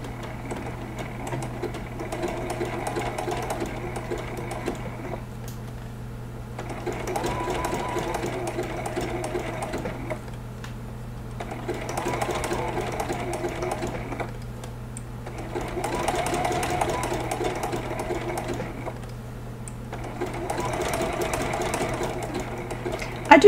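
A sewing machine zigzag stitching a teddy bear applique on a baby quilt, running in steady buzzing bursts of a few seconds each, separated by short pauses, close and continuous.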